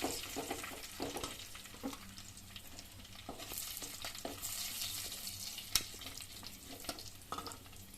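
Fish sizzles and crackles steadily in hot frying oil, a dense, continuous spatter with a few sharper pops rising above it, close up and with no voices.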